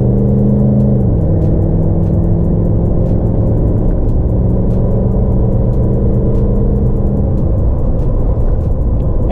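A diesel vehicle fitted with a throttle sensitivity booster accelerates hard at full setting, its loud, close engine drone rising steadily in pitch with one shift-like step early on, sustained without talk.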